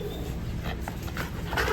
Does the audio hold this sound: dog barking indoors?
yes